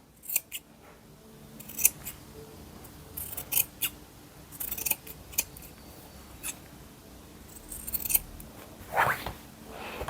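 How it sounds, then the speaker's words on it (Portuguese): Scissors trimming excess fabric from sewn wide-leg trousers, with a series of crisp snips at irregular intervals, close and fairly quiet, with no talking. "vou cortar o excesso aqui, ó. E nos cantinhos a gente corta bem próximo"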